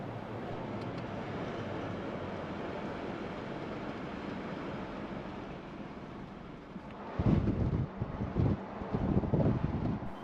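A Toyota Hilux with a roof tent drives through a tunnel in Albania, a steady broad roar of engine and road noise echoing inside, with louder low rumbling bursts toward the end.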